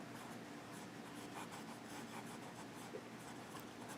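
A Pilot Explorer fountain pen with a medium nib writing on paper in blue ink, a faint, close, continuous scratchy rubbing of the nib over the page with small rhythmic strokes.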